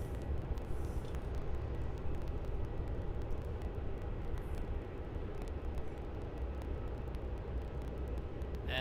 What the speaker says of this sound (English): Runway 34, set takeoff. Looks like got some 3-4 departures here. Entering taxiway Juliet. This looks like a Qantas 737.